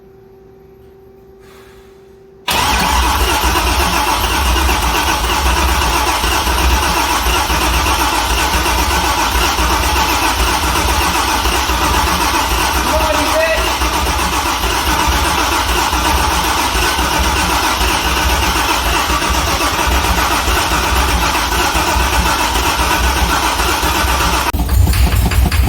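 A C6 Corvette engine cranks and fires after a quiet pause, then settles into a loud, steady, rumbling idle that holds close up for over twenty seconds, with a brief rise at the end.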